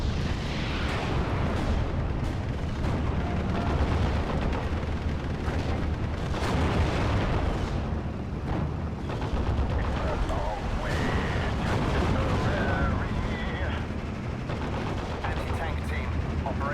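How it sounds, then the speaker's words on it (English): Mortar shells and artillery exploding in Steel Division: Normandy 44, a WWII battle near Caumont l'Éventé, as a dense, continuous roar of booms and gunfire crackle, loud and close, with a voice talking over it. "Was that just mortared again?"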